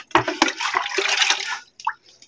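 Water splashes and gurgles as it is poured into a bucket of salt, a close continuous pour after a couple of sharp knocks, then a few faint drips and a short splash.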